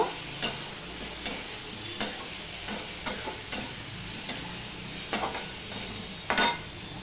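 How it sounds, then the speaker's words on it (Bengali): Potatoes and onions fry in oil with panch phoron, turmeric and salt over low to medium heat. A constant, close sizzle runs under repeated scraping stirs of a spatula against the pan, with no voices. "ঢাকা দিয়ে দিয়ে আমি এটা ভেজে নেব লো টু মিডিয়ামে রেখে ঢাকা দিয়ে দিয়ে আলু পেঁয়াজটা আমি ভেজে নিলাম"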